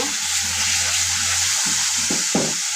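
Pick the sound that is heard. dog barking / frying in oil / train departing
frying in oil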